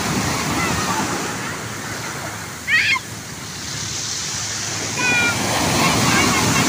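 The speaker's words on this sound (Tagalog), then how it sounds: "Ang laki ng alon." Big sea waves crash on a beach shore in a steady, broadband roar, with short bursts of voices and chirps breaking through above the surf.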